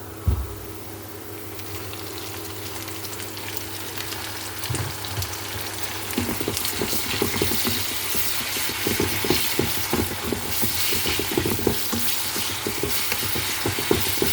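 Squid adobo fries in a pan after tomatoes are added, with a steady sizzle that grows busier partway through as the food is stirred and pressed, close and clear.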